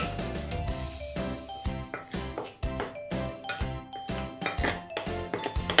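A spoon or whisk stirs plain flour, baking powder and cinnamon in a bowl for carrot cake batter, giving a steady run of close, rhythmic clinks and scrapes against the bowl, several strokes each second.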